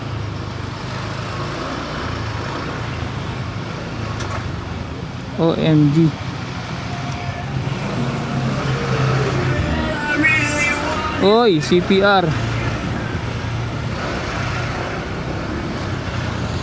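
Heavy road traffic idles and crawls in a jam near the PNPA on a Philippine road, a constant low rumble with horns honking twice in bursts, while people talk over it throughout.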